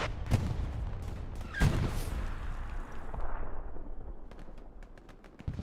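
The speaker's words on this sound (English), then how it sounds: "believe the tank round hit the tree there" A tank round slams into a tree in Hell Let Loose on the Omaha map, a heavy thump followed by a second impact and a long fading rumble, with faint gunfire further off.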